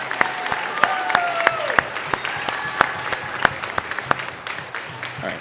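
Audience applause for a school jazz ensemble at a high school band concert, steady dense clapping throughout with sharp individual claps standing out and a faint whistle-like tone drifting over it.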